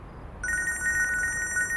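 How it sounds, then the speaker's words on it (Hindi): A phone starts ringing partway through, a rapid trilling electronic ring repeating steadily and fairly loud against a quiet background. "फोन बज रहा है तुम्हारा।"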